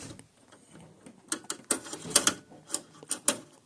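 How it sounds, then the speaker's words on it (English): Small screws are driven back into a projector lamp unit, giving close, light clicking and ratcheting ticks in short irregular bursts with no talk. "you can now go ahead and replace the screws."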